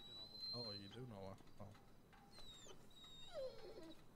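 A dog whimpering in the GTA RP video game, a few short high whines and cries scattered among talk.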